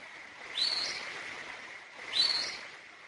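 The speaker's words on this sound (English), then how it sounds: "So I believe it was a Bigfoot that did this whistle." A mysterious nighttime whistle in the woods, thought to be Bigfoot: two separate high, rising whistles about a second and a half apart, faint and distant against a steady background hiss.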